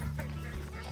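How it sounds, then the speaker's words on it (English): A small backyard flock of ducks quacking nearby in a brief, steady burst, with no speech over it. "Okay, so we have 5 ducks, is that right?"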